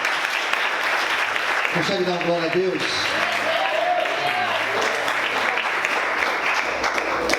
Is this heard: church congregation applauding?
yes